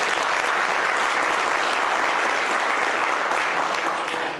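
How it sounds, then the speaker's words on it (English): Loud, sustained applause from a large audience, steady clapping filling the whole stretch without a break. "Please give them a big applause."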